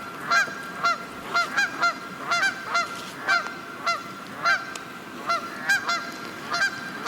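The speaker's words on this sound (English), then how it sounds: "here we have the geese coming in for the evening." A flock of geese flies in to a lake at evening, giving repeated loud honks in an irregular rhythm across the whole stretch, fairly close over a low outdoor background.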